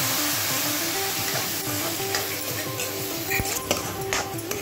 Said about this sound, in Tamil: இப்போ நான் வந்து இதில் காய்ச்சி வச்ச பால் அது ஒரு கால் கப் சேர்க்குறேன்